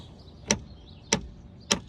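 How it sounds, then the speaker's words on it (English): Three sharp, evenly spaced hammer taps strike from behind a 2015-2020 Hyundai Elantra taillight to knock it loose, each a crisp close knock with a short ring, about half a second apart, with no talking. "you hammer it from behind, and this gives you that extra little push to just basically knock it out super easy"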